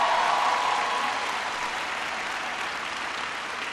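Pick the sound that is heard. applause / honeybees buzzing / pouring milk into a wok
applause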